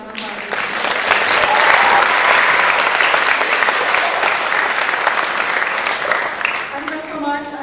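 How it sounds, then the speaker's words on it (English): Loud, dense applause for a school orchestra after its performance, swelling and holding steady before tapering, with a few voices and faint tones near the end. "Let's give them a round of applause."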